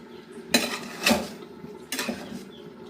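A spoon scrapes and clinks against a cooking pot while pulao is turned over with the stove off. Three distinct metallic scrapes come close and clear, with quiet pauses between them.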